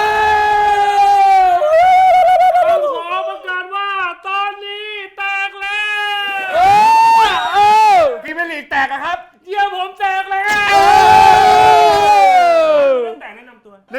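A group of voices cheers and whoops loudly in drawn-out rising and falling shouts, with brief pauses between bursts.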